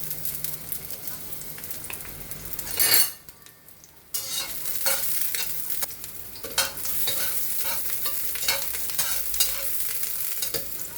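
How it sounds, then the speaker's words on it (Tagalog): Onion sautés in a hot clay pot with a lively sizzle and repeated scraping stirs. The frying briefly drops away near the middle, then resumes crackling to the end. "Igisa ko yung sibuyas"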